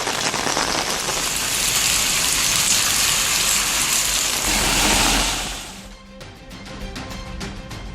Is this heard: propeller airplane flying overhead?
no